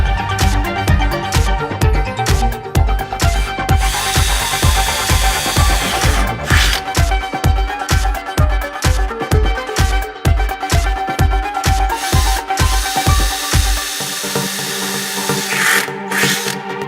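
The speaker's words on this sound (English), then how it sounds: "Drill holes number 1, 2, 3, and 4 using a" A power drill with a 5mm bit boring a series of holes, loud and close, its motor whine broken by rapid rhythmic pulses through most of the stretch before settling into a steadier hum near the end.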